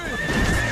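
A horse neighs in a high, strained whinny with faint hoof clatter, loud and close, in a cartoon chase scene where a rider urges the horse on and orders it to jump.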